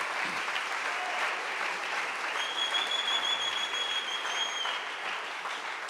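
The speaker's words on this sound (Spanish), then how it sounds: "Dele un fuerte aplauso." A church congregation breaks into strong applause during a sermon, a steady wash of many hands clapping that holds level throughout, with a faint thin whistle-like tone rising briefly above it midway.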